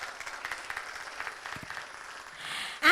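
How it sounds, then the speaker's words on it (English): An audience at a university event gives a round of applause that is soft and fairly sparse at first, thinning out, before a sudden louder burst at the very end. "can we give him a huge round of applause?"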